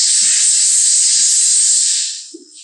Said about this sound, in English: In this case, since we have it, a little compressed air